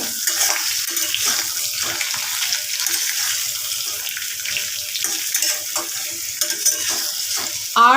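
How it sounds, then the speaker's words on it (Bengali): Onions frying in a small amount of oil in a pan, a steady crackling sizzle with intermittent stirring scrapes and a brief clatter at the end. "সামান্য কিছু পেঁয়াজ দিয়ে দিলাম কম তেলেই বেশি তেলে নয় কিন্তু কম তেলে তেলের মধ্যে ভেজে দিলে খুবই ভালো"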